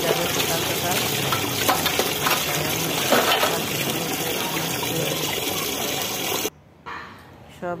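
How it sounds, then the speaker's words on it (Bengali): Tap water runs in a steady broadband gush while dishes are scrubbed and washed at a kitchen sink, then cuts off abruptly near the end, leaving a quieter room with faint clatter. "কালকে অনেক বাসন মেজেছি, আজকে আরও কিছু রয়ে গেছে, এখন মেজে নিচ্ছি"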